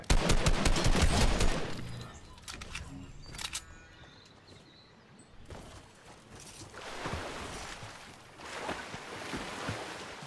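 Gunfire in Fortnite Battle Royale, a loud rapid burst of shots at the start, a few scattered later cracks, then fainter distant firing amid rushing ambient noise.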